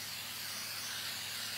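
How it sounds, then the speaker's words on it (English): Cooking spray hisses in a steady, unbroken stream onto the bottom of a lasagna pan, close and fairly soft, with no voices over it. "we're gonna put a little bit of spray on the bottom of the pan so it doesn't"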